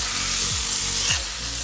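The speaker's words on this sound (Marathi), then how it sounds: "मासोल घालून अशी ती स्वल्प भाजून घेऊ का मासोल" Masala roasts in a pan for a spicy south Indian cauliflower dish, a close, steady hissing sizzle broken by a couple of quick stirring scrapes, with no voices.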